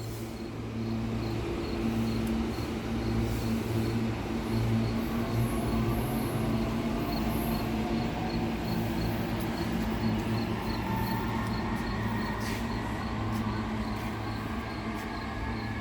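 An Amtrak Avelia Liberty train passes North Philadelphia station with a steady, moderately loud rolling rumble and a sustained electric whine, holding evenly through the passage.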